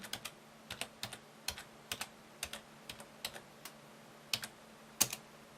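A computer command is typed on a keyboard as a quiet series of irregular key clicks, some in quick clusters with short pauses between, and no one speaking.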